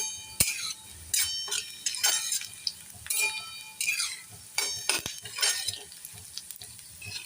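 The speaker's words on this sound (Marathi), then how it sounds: "म्हणून तो मी जरा चांगला लाल होईपर्यंत तळून घेते" Onions frying in a pan for upma, with intermittent stirring scrapes and clinks of a spoon against the pan over a low sizzle, close and steady.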